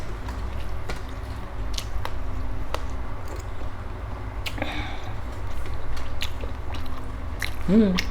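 Close, wet biting and chewing while eating chicken cooked in a sour bamboo-shoot curry, with crunching on bone, continuous and steady through the clip with a brief louder bite near the end.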